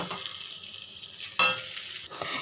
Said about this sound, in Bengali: এই যে দেখো মশলার সাথে আমি কষাচ্ছি এটা